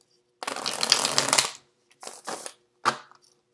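A thick, stiff new tarot deck being shuffled: one long dense riffle of cards, then two shorter bursts and a quick final snap, close and fairly loud with no talking.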